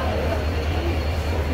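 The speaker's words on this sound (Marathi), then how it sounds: "बघू शकता आमची ही ट्रेन आहे CSMT हावडा." Interior rumble of the CSMT–Howrah passenger train in motion, a loud steady low drone with rattling wheel noise, continuous and unbroken.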